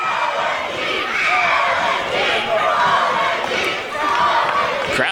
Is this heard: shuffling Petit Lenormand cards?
no